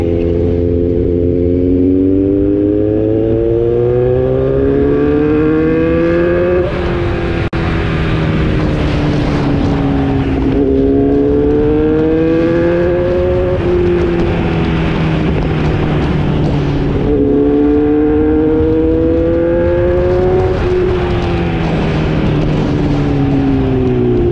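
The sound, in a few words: Kawasaki Z900 motorcycle engine sound while riding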